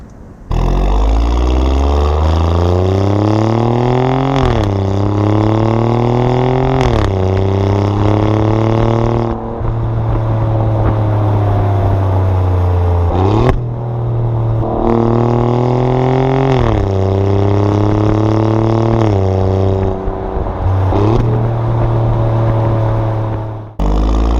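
A 2017 Alfa Romeo Giulia Quadrifoglio engine pulls hard in manual mode, climbing through the revs in several loud rising sweeps with sharp gearshift breaks between them, heard from inside the car.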